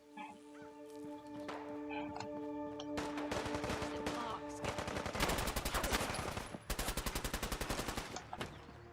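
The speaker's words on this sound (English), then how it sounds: "as soon as we get within certain range, folks are going to start shooting at each other" Rapid bursts of automatic gunfire and single shots as non-player characters fight each other in the game Fallout London, loud clusters of repeated cracks building over several seconds over a sustained tonal hum.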